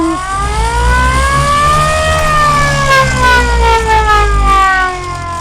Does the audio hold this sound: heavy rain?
no